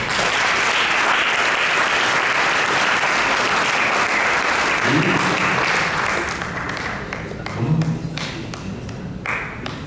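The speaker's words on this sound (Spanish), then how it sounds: "Un aplauso para él." An audience applauds in a seminary lecture hall after a conference with an archbishop, a dense sustained wash of clapping that thins slightly toward the end, with a few low voice-like murmurs underneath.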